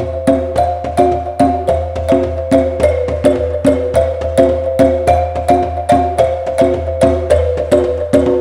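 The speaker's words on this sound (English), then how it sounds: "So now we've got marimba and djembe in the song" A marimba and a djembe play a steady repeating groove together, bright mallet notes ringing over sharp hand-drum slaps in an even rhythm, close and loud with no voices.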